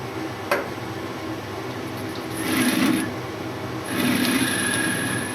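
Metal lathe turning a softened, tempered centre finder punch to a point: a steady mechanical whir with a faint rhythmic ticking, swelling twice in a broad hiss as the cutting tool engages the workpiece, close and continuous.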